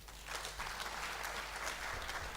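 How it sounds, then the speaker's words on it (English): A conference audience at an annual technical conference applauds a presenter, a sustained wash of many hands clapping at a distance, even and fairly faint throughout. "Let's give him another round of applause, please."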